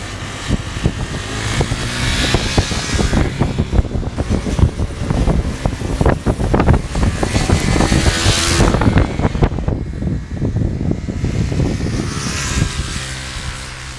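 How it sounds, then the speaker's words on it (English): A 2017 KTM 390 Duke motorcycle ridden hard on the Bajaj Chakan test track, its engine loud and continuous with rising and falling revs and gear changes, heavy wind rush over the microphone, no talking. "today we are riding that, the Duke 390"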